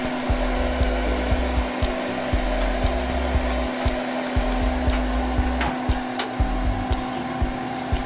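A seed dryer set to about 105 degrees runs steadily while drying tomato seeds, giving a constant close-up whirring hum with a faint rhythmic low thumping and no voices.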